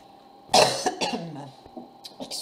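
A single loud, close cough bursts out and trails off into a breathy throat-clearing rasp, with faint background sounds before and after.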